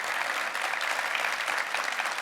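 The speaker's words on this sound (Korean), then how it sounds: "이정복 씨가 박수 받고요" A studio audience applauds briefly at a televised New Year's town-hall special where citizens question a mayor. The clapping is a short, steady, moderately loud burst with no voices.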